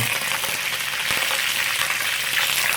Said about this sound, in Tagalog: yung leeg, piprito ko muna sa mantika bago ko papakuluan to